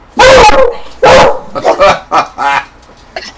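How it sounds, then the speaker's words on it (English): A dog lets out several loud, close barks in quick succession, with a couple of softer, shorter yips trailing off at the end. "Your dog answered for you."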